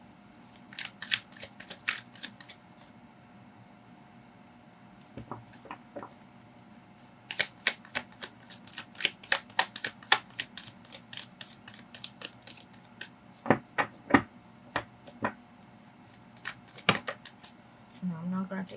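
Tarot cards handled during a reading, heard as crisp bursts of shuffling and quick flicks and snaps of cards being drawn and laid down, in irregular clusters with pauses between.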